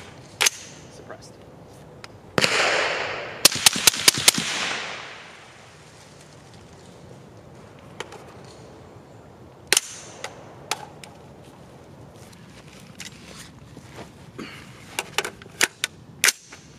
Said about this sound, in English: Ruger SFAR 5 rounds, M118LR gas setting to